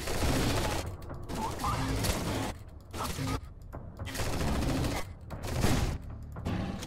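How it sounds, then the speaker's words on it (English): Troops in the zombie strategy game Strain Tactics fire their guns on the move. Dense bursts of gunfire crackle in repeated volleys with brief gaps between them, loud and busy throughout. "my troops will fire on the move"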